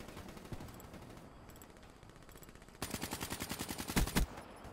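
Rapid automatic gunfire in a first-person shooter video game, first as faint, distant bursts, then a loud, close, steady stream of shots ending in a few heavier blasts.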